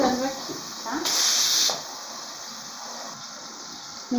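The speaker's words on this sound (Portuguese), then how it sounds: "já saiu a pressão do meu feijão" A steady, loud hiss of escaping steam bursts from a pressure cooker of beans for about half a second, then cuts off, with kitchen sounds and brief voices around it.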